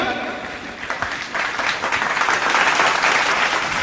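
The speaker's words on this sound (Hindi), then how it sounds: "मिसिस इंडिया हो गई अब तो मैम, जोरदार तालियां" Loud crowd applause rings out at a Human Rights Day program honoring a Mrs. India titleholder, continuous hand clapping that builds and holds steady across the clip.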